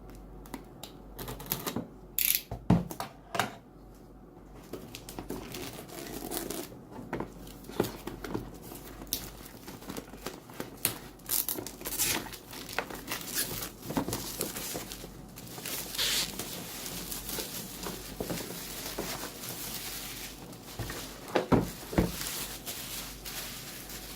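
Knife slicing through the tape and cardboard of a TP-Link Archer C50 router box, a run of quiet scratchy rasps and taps with a few sharper clicks, close by and faint.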